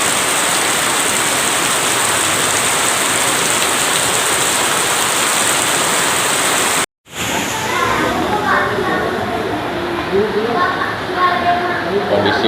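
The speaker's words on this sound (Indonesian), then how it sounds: "diguyur hujan lebat" Heavy rain pours down steadily during evening tarawih prayers amid thunder, a dense loud hiss that cuts out briefly, then returns with voices talking over it.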